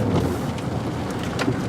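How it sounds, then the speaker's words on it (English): Thunder rumbles through steady rain outside during an August storm, a broad low roar with a few louder swells, heard near and continuous with no talk. "Listen to that thunder!"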